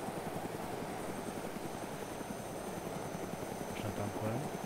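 Aircraft engine droning in DayZ Mod, a steady rotor-like buzzing hum held throughout at low level, with a brief voice near the end.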